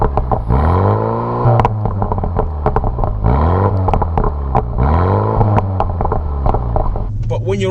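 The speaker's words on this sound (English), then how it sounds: "you can hear when you're revving the car when it stands still" A 2020 BMW M135i engine revs repeatedly while stationary, each rise in pitch sweeping up and falling back, loud and close with a deep throbbing idle between.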